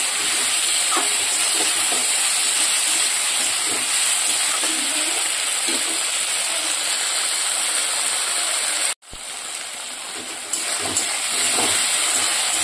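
Ingredients lightly sautéed in a pan, a constant bright hiss with faint stirring scrapes underneath, close and steady, broken by one brief gap before the sizzle resumes.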